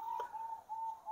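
Zebra dove (perkutut) cooing softly, a faint repeated tonal coo with a slight rhythmic pulse, heard alone and close.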